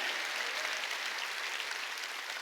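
At a Sunday worship service, the congregation claps in a steady, even wash of applause that sounds somewhat distant and muted, with no speech over it.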